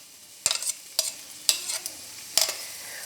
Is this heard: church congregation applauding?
no